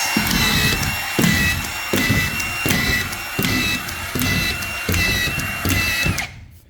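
A VEVOR auto-feed drywall screw gun drives screws in a quick run of about eight loud, evenly spaced whirring bursts, each cut off sharply, with no talking.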